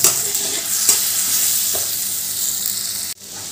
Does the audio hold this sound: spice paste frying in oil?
yes